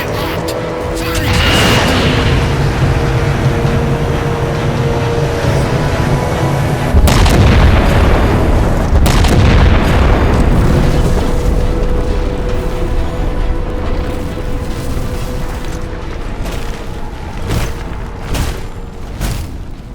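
Spaceship cannon fire and explosions from the Halo 4 video game, a loud continuous barrage with heavy booms, including a sharp blast partway through and rumbling impacts that carry to the end.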